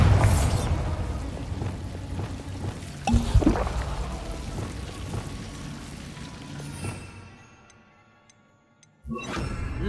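A Bombarda blast spell goes off in Hogwarts Legacy, a sudden sharp boom near three seconds over dense rumbling game noise, which fades into a quiet hiss before another burst at the end.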